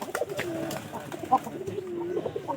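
Domestic pigeons coo at a loft, a newly paired couple, giving repeated low, throaty rolling coos and soft calls at close range, with some wing and movement noises.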